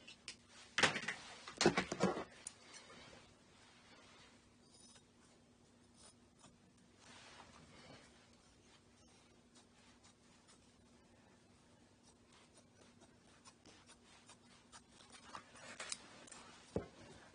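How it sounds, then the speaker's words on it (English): Scissors trim excess fabric while a gore skirt is draped. A few brief snipping bursts come near the start and again near the end, otherwise a quiet room. "I'm going to cut away that excess fabric"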